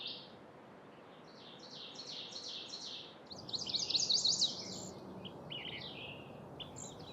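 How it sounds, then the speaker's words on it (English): A Nashville warbler sings from middle distance: a run of repeated high, thin notes, then a quicker, louder trill, set against a soft steady outdoor hiss. "I'm a little surprised at this Nashville warbler."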